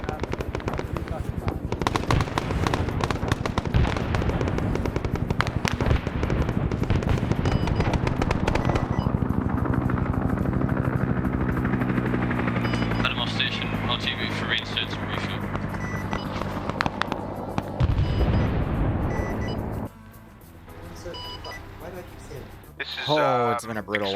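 Heavy automatic gunfire rattles in long, dense bursts during a Vietnam War combat operation in the game SOG Prairie Fire, loud and near, with voices over it before it thins out toward the end.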